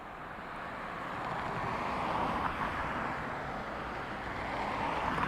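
Vueling airliner arriving from Paris at Dublin Airport, a steady broadband jet roar with wind noise that swells slightly and holds through, heard at moderate distance with no voices.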